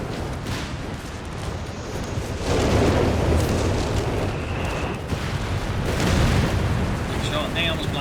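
V1 rocket strikes in Company of Heroes 3 land as heavy booming blasts, a big explosion swelling near the middle and another later, rumbling loudly over continuous battlefield noise.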